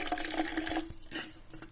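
Tap water runs into a container indoors, a faint, continuous splashing trickle with no talking.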